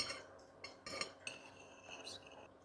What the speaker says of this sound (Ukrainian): Розрізаємо два яйця.